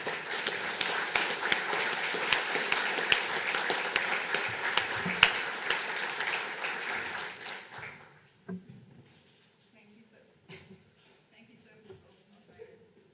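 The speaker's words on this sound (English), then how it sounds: "I would like to have a round of applause for everyone in this room for the work that you've done." Room full of people applauding at the close of a talk, dense continuous clapping for about eight seconds that then cuts off, leaving faint scattered claps and quiet room noise.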